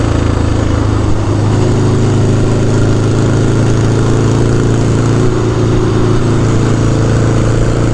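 A Harley-Davidson Sportster engine idles after sitting a year through a New York winter, a loud, steady low rumble that runs unbroken the whole time with no speech.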